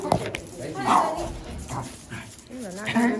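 A big dog at the vet barks, yips and whimpers in short bursts, close and loud, mixed with people talking nearby.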